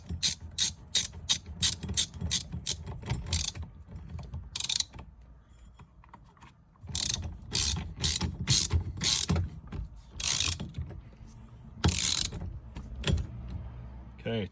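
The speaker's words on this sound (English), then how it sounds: "torque down to 45 Newton meters" Torque wrench tightening steering wheel spacer bolts on a Porsche Boxster, with bursts of rapid ratchet clicks in quick rhythmic runs, separated by brief pauses and a quieter stretch in the middle.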